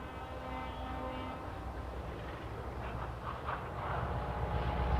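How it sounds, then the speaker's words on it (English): Diesel locomotives cross a rail yard, their engines a steady low rumble that builds slightly, with a faint horn-like tone early on. "The diesels that will take her to Halifax cross the yard."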